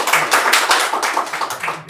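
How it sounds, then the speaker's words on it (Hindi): Audience clapping at a Hindi poetry recitation event, a brisk burst of hand claps from a small crowd, close and lively, with individual claps distinguishable. "इतना ही था, ताली बजा दीजिए।"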